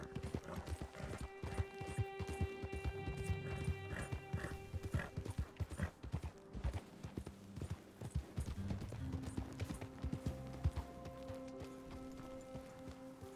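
Horse hooves clip-clop at a steady riding pace in Red Dead Redemption 2, near and rhythmic throughout, with a brief neigh and a soft game music bed underneath.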